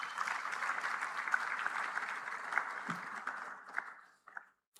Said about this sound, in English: Please, a round of applause for them again.